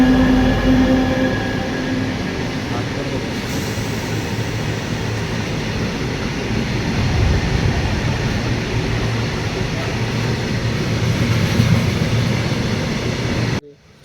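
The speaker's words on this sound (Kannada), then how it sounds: "ಮತ್ತು ಸ್ಟಾರ್ಟ್ ಆಯ್ತು ನಮ್ಮ ಟ್ರೈನ" Rajdhani Express train no. 22691 from Bengaluru to Delhi, hauled by a G12 locomotive, starting to pull away: a steady, loud low rumble of wheels and carriages rolling continuously before cutting off abruptly at the end.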